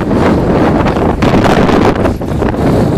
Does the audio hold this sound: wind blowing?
yes